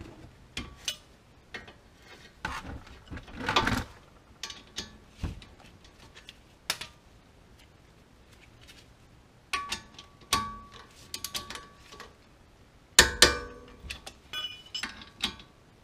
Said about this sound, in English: these two bolts get torqued to 37 foot-pounds